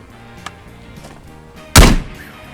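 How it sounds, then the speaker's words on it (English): A single sharp, loud flare-gun launch pops out in the shooter game Ghosts of Tabor, a sudden close bang with a brief hissing tail after a quiet lead-in. "it's time we launch our first flare"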